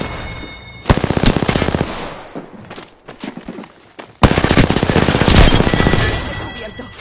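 Automatic gunfire rattles in rapid bursts in a PS4 shooter game, two dense volleys separated by a brief lull, loud and close.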